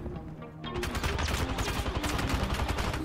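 Dense, sustained automatic gunfire from the video game Apex Legends in a solo match, overlapping rapid shots forming a loud continuous fusillade after a brief quieter lead-in.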